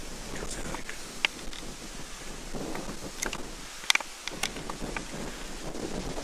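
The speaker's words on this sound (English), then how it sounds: "Oh, the wind's come out now." Wind picking up on an open golf course, a steady low rush of moderate loudness with scattered faint clicks and rustles, with no voices over it.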